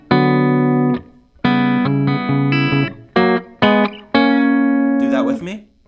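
Electric guitar strums a post-chorus chord progression from a song, a series of sustained chords with short gaps between them, loud and close, with no voices.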